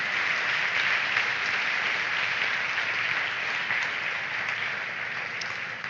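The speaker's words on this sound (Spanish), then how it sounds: "Yo daría un aplauso al Señor." A church congregation claps together in a dense, sustained round of applause that fills the room evenly and tapers slightly toward the end.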